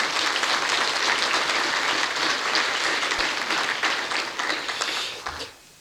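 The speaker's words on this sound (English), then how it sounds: "So you just give her a round of applause," Sustained applause from a conference audience at a rural water event, dense and steady clapping that holds for several seconds before tapering off quickly at the end.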